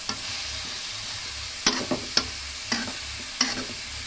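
Eggplant and bitter melon fry in a pan with a steady hiss, while several sharp clacks of a utensil stirring against the pan ring out close by.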